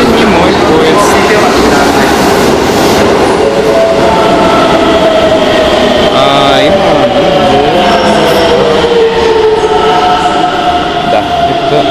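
Train passing through a Tokyo station in the evening, a loud sustained rumble with screeching wheel and brake tones that rise and fall, filling the whole stretch while people talk underneath.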